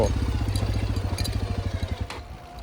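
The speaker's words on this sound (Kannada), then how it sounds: "ಇಂಜಿನ್ ಬ್ರೇಕಿಂಗಲ್ಲಿ ಆರಾಮಾಗಿ ಗಾಡಿ ಇಳಿಸಿ" A Hero XPulse 210 motorcycle engine, in second gear with engine braking downhill, rumbles with a rapid, pulsing low throb that gradually slows and fades, as if coasting in gear.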